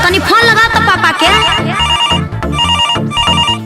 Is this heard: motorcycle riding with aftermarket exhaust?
no